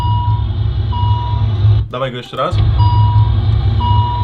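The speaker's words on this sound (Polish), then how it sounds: "który towarzyszy nam w momencie, kiedy mamy włączone światła i zapomnimy o nich," Lamborghini warning chime for headlights left on with the door open repeats as evenly spaced electronic beeps, briefly interrupted by someone speaking before the beeping resumes.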